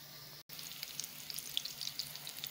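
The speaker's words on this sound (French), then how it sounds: "Moi, je n'immerge pas les pilés quand je les fais frire." Pili pili dough fritters frying in a thin layer of oil in a pan, a soft steady sizzle with scattered tiny pops and crackles, fairly quiet with no talk.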